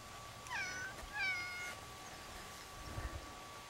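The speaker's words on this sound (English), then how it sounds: "Two cats." Two cats meow in a garden setting, two short, high, nearby cries in quick succession, followed by faint rustling and quiet background.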